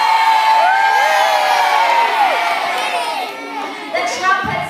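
A crowd cheers and whoops during a storytelling performance, with children's voices shouting loudly and excitedly throughout, close and continuous.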